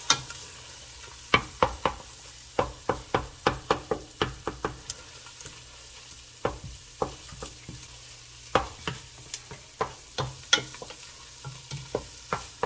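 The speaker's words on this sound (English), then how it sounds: "And the tomato paste. I keep stirring." A spoon clanks steadily against a pot while bean stew with tomato paste is stirred in an Azorean village kitchen, giving many close, rhythmic knocks over a soft sizzling bed, with no talking.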